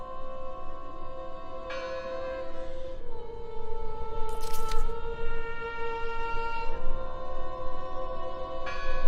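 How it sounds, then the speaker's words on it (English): Church bell tolling in the horror adventure game Draugen, with sustained ringing tones and a brighter strike partway through over a low ambient rumble, no voices. "Listen! The bell! They're still in there!"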